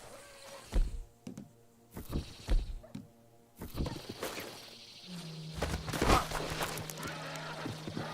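A horse in Red Dead Redemption 2 makes several distinct hoof thunks and snorts at close range, followed by a sustained low tone, with no talk over it.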